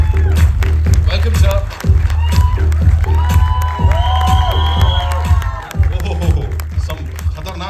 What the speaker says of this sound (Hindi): दिलीप ताहिल साहब के लिए जोरदार तालियां हो जाए